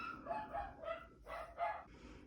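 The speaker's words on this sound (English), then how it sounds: "My part of my family got home, so the dog was barking." A dog barks five or six times in a rough rhythm somewhere away from the microphone in a home, the barks faint and muffled with a low background hum.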